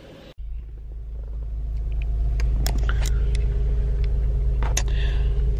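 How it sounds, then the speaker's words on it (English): Car interior on the way to Target, a deep steady road rumble that builds after a brief cut near the start, with a few faint clicks and taps above it. "I'm in the car. I'm on the way to Target."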